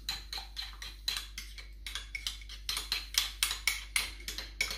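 Mustard mayonnaise being mixed in a bowl makes quick, regular scraping clicks as a utensil strikes the bowl, close and steady with no voices.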